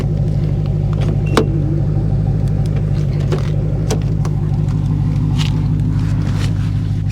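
A neglected Infiniti G37's engine runs loudly and steadily, with a constant low rumble close by and a few light knocks and clicks on top.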